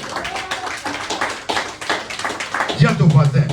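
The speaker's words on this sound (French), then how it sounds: "Applaudissez Jésus-Christ." A church congregation claps in praise of Jesus Christ, scattered rhythmic hand claps mixed with voices and a loud low hum near the end.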